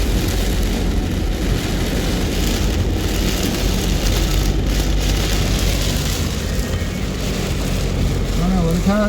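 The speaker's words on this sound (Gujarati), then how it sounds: "અંધારું અંધારું અને વરસાદ આવી રહ્યો છે ફૂલ" Heavy rain pours down steadily under a darkened daytime sky, a dense continuous hiss close by with no break, and a brief faint sound near the very end.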